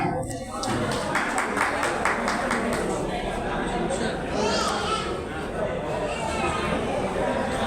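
An audience at an awards ceremony claps in a burst of applause mixed with crowd chatter, while a voice keeps talking over it.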